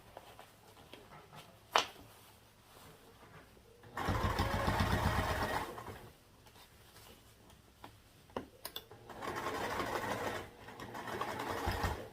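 A sewing machine stitches across lining fabric in two runs of steady whirring, each a couple of seconds long. Quieter clicks and handling noises fill the pauses between them, and no one speaks.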